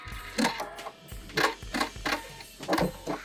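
Sewing machine back stitching a golf club headcover, a quiet close series of quick rhythmic mechanical clicks and whirs in short bursts.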